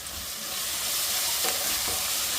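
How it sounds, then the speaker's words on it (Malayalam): Sliced onion with ginger garlic paste and green chilli sautéing in a pan on low flame, a steady close sizzle and frying hiss with a couple of faint stirring scrapes, no talking. "ഇഞ്ചി വെളുത്തുള്ളി പേസ്റ്റും കൂടി ചേർത്തിട്ട് നന്നായിട്ടൊന്ന് വഴറ്റി എടുക്കണം"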